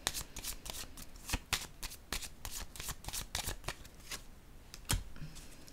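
Tarot cards are shuffled in a brisk, continuous run of crisp riffling snaps and flutters, close and fairly quiet, with a few sharper slaps near the end and no speech over it.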